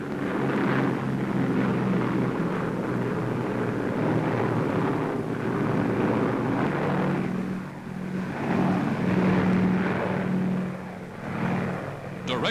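WWII transport planes fly in over a coastline toward enemy-held territory, a steady loud droning engine roar with shifting low tones that fills the whole stretch, with someone talking over it.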